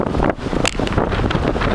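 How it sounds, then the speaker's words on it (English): Strong wind in snowy mountains buffets the microphone in loud, gusty rushes and rumbles for a couple of seconds, with no voices. "Just wanted to give you an idea of the wind today. It's blowing pretty good."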